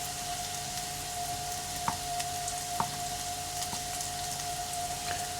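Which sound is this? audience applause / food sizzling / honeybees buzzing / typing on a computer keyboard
food sizzling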